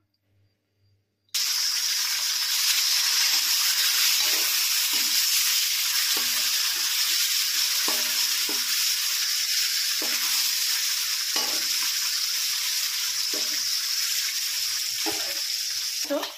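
Fish frying in mustard oil, a loud constant sizzle that starts abruptly, with occasional scraping and clinks of a utensil, close by.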